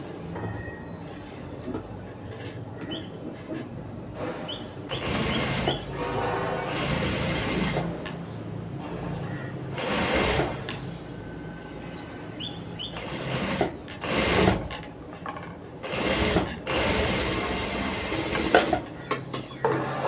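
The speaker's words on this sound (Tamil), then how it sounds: "இப்போது நம்ம இந்த இடத்துல இதை வச்சு அப்படியே ஸ்டிச் பண்ணி விட்டுருவோம்." A sewing machine stitching a sleeve, its needle clattering in a steady mechanical run with louder bursts and pauses as the fabric is guided through.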